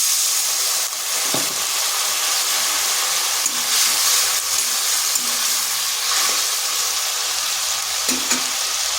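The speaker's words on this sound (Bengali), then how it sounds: "এখানে সামান্য একটু জল দেব।" A little water hits a hot pan of potatoes for a vegetarian papaya dish, giving a loud, broad steam hiss and sizzle that holds steady with faint stirring knocks.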